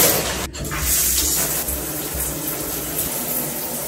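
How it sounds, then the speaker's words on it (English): A shower runs in a bathroom, a steady broadband hiss of spraying water that continues alone without a break, close and fairly loud, with a low hum underneath. "But I first need to take a shower."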